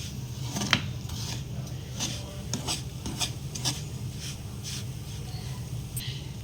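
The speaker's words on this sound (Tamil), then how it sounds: "சிம்மில் வச்சுக்கிட்டு இந்த நாட்டு சர்க்கரையை இந்த மாதிரி மிக்ஸ் பண்ணிக்கோங்க." Country brown sugar is stirred in a pan over low heat, giving soft scraping and rubbing strokes with occasional light clinks of a spoon against metal, close and fairly quiet, with no talking.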